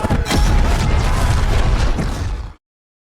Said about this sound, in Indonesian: mereka terkena ledakan yang berasal dari arah belakang